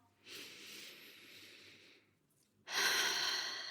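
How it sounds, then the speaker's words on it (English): A slow, deep inhale through the nose, a soft airy breath rising and holding steady, then a stronger, louder rush of air as the breath continues, heard close and alone with no talking. "just take a deep breath"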